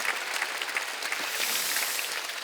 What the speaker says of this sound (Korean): 하나님께 박수 칩시다